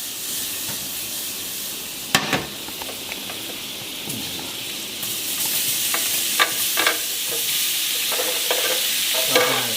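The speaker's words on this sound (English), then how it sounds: "we're gonna just pan fry up our shrimp now" Steady loud sizzling of shrimp pan-frying in butter in a hot pan, with occasional sharp clinks and scrapes of a utensil.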